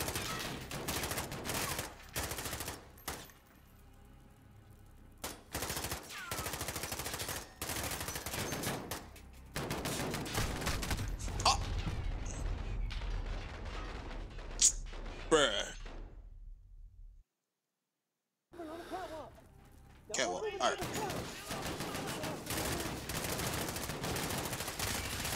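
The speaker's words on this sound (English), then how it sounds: "Where y'all shooting at, man?" Intermittent bursts of gunfire and volleys in a Call of Duty: Modern Warfare campaign mission on realism mode, sharp shots repeating over a loud combat bed, with a brief drop to near silence before the firing resumes.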